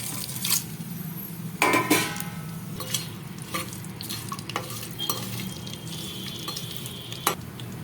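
Ingredients sizzle in a little ghee for chicken mandi, with steady frying hiss under repeated sharp clinks and scrapes of a spoon stirring against the pan, a louder clatter near the start and another near the end.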